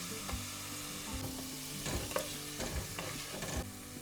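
Onions sauté in a pan on a Kerala kitchen stove for chemmeen (prawn) biryani. A steady sizzle carries through, broken by repeated scraping and stirring knocks of the spoon.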